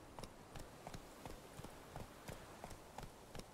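Roach the horse trots along in The Witcher 3, hooves clip-clopping in a steady, evenly spaced rhythm of about ten hollow strikes, moderately near over a faint ambient bed.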